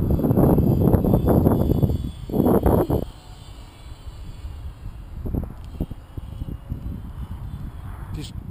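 A scratchbuilt low-aspect foam RC airplane flies on a windy day, its small motor buzzing faintly in the distance under gusting wind, with voices talking over it for the first few seconds.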